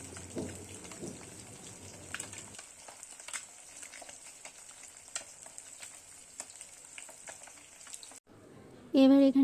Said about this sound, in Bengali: এখানে দেখতেই পাচ্ছ মাছগুলো ভাজা ভাজা হয়ে এসছে